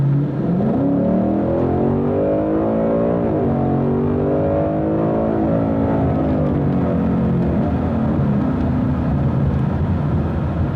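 A modded Kona Blue Ford Mustang GT engine revs and pulls hard on the road, a loud continuous roar rising and falling in pitch through the gears from start to finish.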